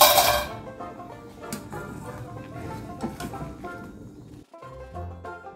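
Boiled potatoes being scooped out of a cooking pot, with a few light metallic clinks and scrapes of utensil against pot over a soft musical background.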